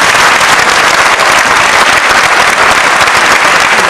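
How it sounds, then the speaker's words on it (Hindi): Audience applause for performers at a Maithili Akademi Delhi stage event, a loud dense wash of clapping sustained evenly from start to finish. "एक बार खुले दिल से इनके लिए ताली बजाएं"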